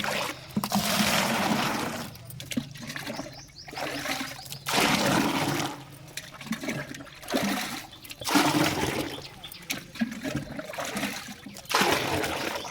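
Water sloshes and splashes in repeated bursts with brief pauses as clothes are scrubbed and rinsed by hand in a tub, close and fairly loud.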